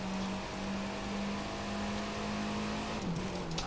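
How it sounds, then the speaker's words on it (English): A monster truck engine in the racing video game The Crew 2 drones at a steady, held pitch, then dips and wavers briefly near the end, loud and alone with no talk. "Out of control monster truck."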